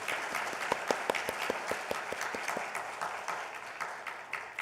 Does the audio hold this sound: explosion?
no